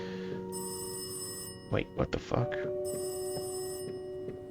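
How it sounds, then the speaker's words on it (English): A telephone rings downstairs in the video game Rise of Insanity, a few sharp ring bursts coming from below, with a person's startled voice over it. "Oh, it's the phone downstairs."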